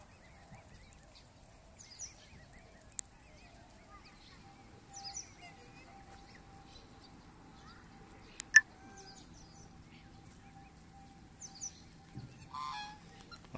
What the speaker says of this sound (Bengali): এখানে কিছু দেশি রাজহাঁসের মতো রাজহাঁসও আছে